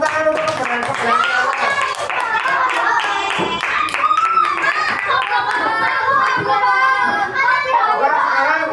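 Grade 4 classroom children clapping together, a dense burst of hand claps blended with kids' voices and chatter, fairly loud and continuous throughout.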